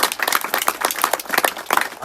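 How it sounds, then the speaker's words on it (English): Audience at an outdoor fundraiser in a park clapping for elders, a loose round of individual hand claps with audible separate strikes, moderately close and steady for a couple of seconds. "if you could give them a round of applause, I'd really be grateful for that."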